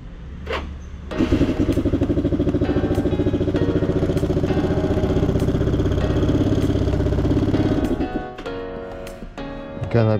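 A Yamaha Cygnus-X second-generation scooter engine cranks and starts on a weak battery, then settles into a steady mid-pitched idle that runs loudly for several seconds before cutting out near the end, with brief clatter before and after.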